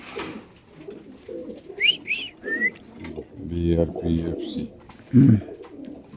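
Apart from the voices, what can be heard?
racing pigeons cooing at a pigeon farm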